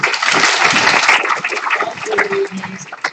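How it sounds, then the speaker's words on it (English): Award winners standing for applause from an audience at a live-streamed games conference event, a dense, loud wash of clapping that thins toward the end. "Everyone has to get up. Clap."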